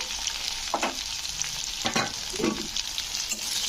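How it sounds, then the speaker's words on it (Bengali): Okra frying in a pan with turmeric and chilli powder just added: a close, steady sizzle broken by a few scraping stirs, with no talking. "ঢেঁড়সগুলো আমার এখানে ভাজা হয়ে গেছে তো এবারে এতে দিয়ে দেবো হলুদের গুঁড়ো লঙ্কার গুঁড়ো"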